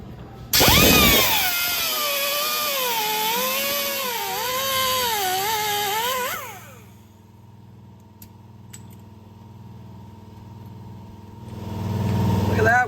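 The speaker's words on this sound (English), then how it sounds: "We're gonna have to cut this bolt head off." A power tool cutting off a rusted bolt head on a 1946 Ford Coupe, a loud close whining grind with wavering pitch for several seconds, then a lower humming lull with faint clicks before the tool starts to rise again.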